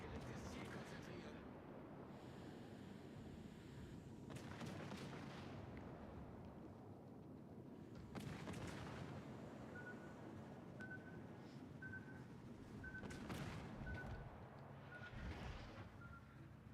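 Deep, booming naval gun salvos in World of Warships: Legends gameplay, several rumbling blasts spread over continuous battle ambience, with someone talking throughout.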